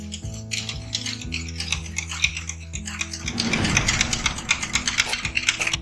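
Cashew nut paste is stirred into curd with a steady scraping and rubbing, close by, as rhythmic strokes against the bowl with a low steady hum underneath; the stirring grows busier and louder toward the end.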